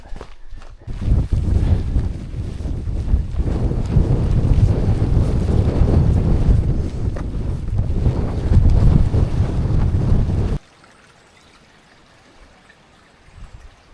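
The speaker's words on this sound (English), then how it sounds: "every time I get the camera out to speak to you, wind picks up" Strong wind buffeting a microphone on an open hillside walk along the Dales High Way, a loud continuous roar for about ten seconds that cuts off abruptly to near quiet.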